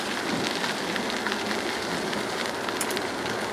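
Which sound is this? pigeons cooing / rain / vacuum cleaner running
rain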